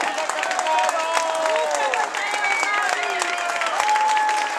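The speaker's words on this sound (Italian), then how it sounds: "Applausi." A crowd at a Lega Nord provincial festival rally in Lonigo applauds continuously, with voices and shouts rising above the clapping from near and far.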